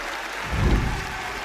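Crowd at the Six Invitational esports grand final, FaZe Clan versus Team Secret, swelling into a brief roar that peaks midway, then settles under steady arena noise.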